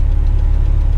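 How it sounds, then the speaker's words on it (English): A Western Star tipper truck descends a steep construction-site haul road in second gear with its exhaust brake engaged, giving a loud, steady low rumbling drone that stays close and constant throughout. "exhaust brakes engaged, all because it's getting quite steep at the end"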